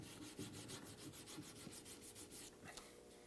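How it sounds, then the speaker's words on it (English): 220-grit sandpaper is rubbed lightly back and forth over wet stain on cherry wood in a quick run of soft, even strokes, faint and close, with no talking. "220 grit sandpaper, and while the stain is wet, I'm just going to very lightly sand that area,"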